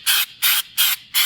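Four short, evenly spaced bursts of spray paint hiss out from a can onto Audi big brake parts fitted to an MK7 Alltrack, each a crisp, loud blast separated by brief silences.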